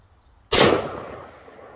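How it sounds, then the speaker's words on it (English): A single sharp gunshot fired at a target set in front of a bucket on an outdoor shooting range, loud and close, with a short decaying tail and no speech. "Shoot at the one in front of the bucket. See if we can see the bucket move."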